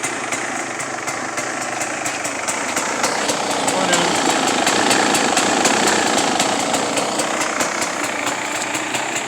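A warmed-up 2017 Beta 300RR dirt bike fitted with a Lectron carburetor idles steadily and loudly up close, a continuous two-stroke burble with a rapid even beat.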